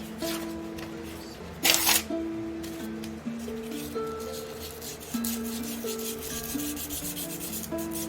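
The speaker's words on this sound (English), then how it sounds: "just going to give it a light sanding." 150-grit sandpaper rubs lightly and repeatedly against wooden dowels in quick strokes, with soft music playing underneath.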